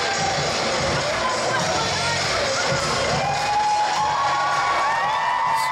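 A dense wrestling crowd cheering and shouting at ringside during a KAPOW Wrestling show, a steady loud roar of many voices with whoops throughout, with a commentator talking over it.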